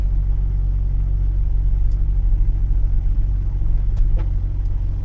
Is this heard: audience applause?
no